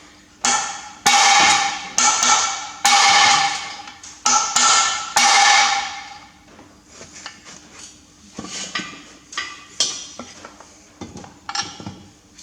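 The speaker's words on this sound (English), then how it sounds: "Wild man on a hammer here" Hammer blows on a stuck diff lock shaft of a Massey Ferguson MF135 six-speed tractor, sharp ringing metallic strikes in irregular bursts, loud and close at first, then lighter, quicker taps.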